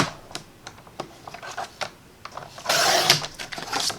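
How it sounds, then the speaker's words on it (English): Card paper being cut to size with a paper trimmer, a series of soft ticking and scraping strokes followed by a longer sliding cut, quiet and close. "And then I'm going to cut this down to 4 inches."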